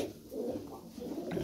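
Pigeons cooing in a loft, soft low rolling coos close by, over a short stretch without talk.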